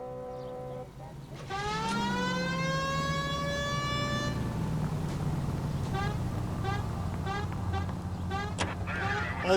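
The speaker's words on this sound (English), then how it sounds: "We have a siren." A police car siren wails up and then settles into a steady rising and falling cry, loud and close over the rumble of the car, following a few horn-like tones at the start.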